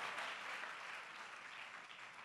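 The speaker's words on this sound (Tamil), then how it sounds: "Let's clap loudly." A church congregation claps hard during a sermon, a dense wall of applause heard faint and distant, fading slightly toward the end.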